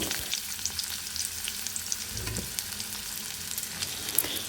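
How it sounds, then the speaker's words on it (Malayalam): Onion frying in hot coconut oil, a continuous crackling sizzle with occasional stirring knocks, close and moderately loud, no voices. "വെളിച്ചെണ്ണ ചൂടായിട്ടുണ്ട്. ഉള്ളി ഇട്ടു,"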